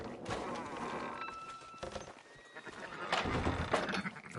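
Sheep bleating in the open-world video game Red Dead Redemption 2, several close bleats over a steady buzzing, insect-like background, with no talk.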